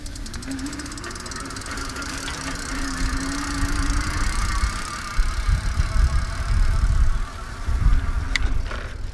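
A Leisger CD5 motorbike is throttled up through grass, giving a steady motor drone with a rising whine and rumbling surges as it pushes along, fairly close.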